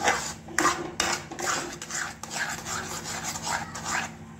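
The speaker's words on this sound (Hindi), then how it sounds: "यहाँ पे मावा भून रहा है अभी।" Mawa, milk solids, being roasted and stirred in a pan: a steady scraping and rasping of a spoon against the pan, in quick repeated strokes, close up and with no talking.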